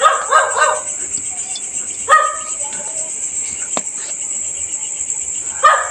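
A dog barks in short bursts at night against a constant shrill chorus of crickets, with a few sharp yaps spaced several seconds apart.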